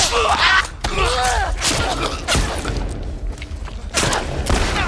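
Shotgun blasts and other gunfire from The Last of Us Part II, several loud broadband booms at irregular intervals amid busy game combat sounds, with some vocal grunts mixed in.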